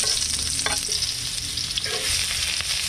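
Pieces of fish sauté in a hot pan with a loud, dense, continuous sizzle and occasional soft stirring scrapes, heard up close.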